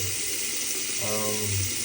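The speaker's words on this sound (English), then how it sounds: "I'm just going to turn it on and let it run a little bit. Flush out the system." Water runs steadily from a bathroom sink faucet into a freshly unclogged drain, a constant close hiss with a gurgling draining tone rising midway through.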